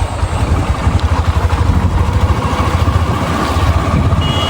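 A motorcycle engine thrums steadily at close range with a pulsing low rumble, mixed with rushing wind and rattling noise as it rides along.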